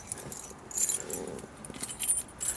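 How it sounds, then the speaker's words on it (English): A set of car keys for a 1947 Ford Super Deluxe jingles softly in short, irregular metallic bursts, faint and close, with quiet background noise. "Has 2 sets of keys."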